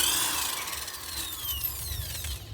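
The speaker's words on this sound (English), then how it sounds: "And here this is again 19 mm bolt, and we have to remove it." Power tool work removing a 19 mm bolt from a Bajaj Discover motorcycle engine, a whirring whine that glides up and down in pitch, close and fairly quiet, no talking.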